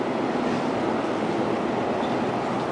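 A Seoul subway train pulls away from a station platform, a loud steady roar of wheels and motors filling the space continuously, with no talk.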